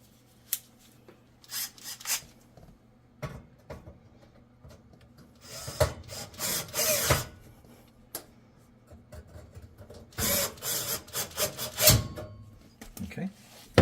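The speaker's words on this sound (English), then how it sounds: "I'm going to use a manual screwdriver just to get these started properly." A manual screwdriver turns screws into a Samsung oven in short bursts of scraping, rubbing clicks separated by pauses, close and moderately loud, with a few faint sounds in between.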